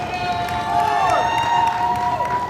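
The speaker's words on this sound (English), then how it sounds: "Crowd getting both men into it." Crowd at a pro wrestling match cheers and roars steadily while both wrestlers are down, a sustained swell of voices rising slightly in the middle, with some whooping on top.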